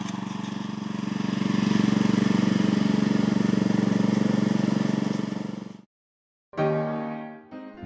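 A Honda FQ650 tiller engine runs with a loud, steady low drone for several seconds, cuts out abruptly, then sputters briefly back to life near the end.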